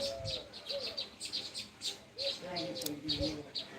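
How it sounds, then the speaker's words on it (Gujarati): Small birds chirp in quick, bright repeated tweets at a homestead where peacocks visit, close and lively, with a voice calling and talking alongside. "ચક્કી ઉડી જો"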